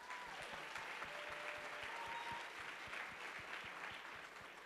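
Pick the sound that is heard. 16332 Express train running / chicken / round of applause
round of applause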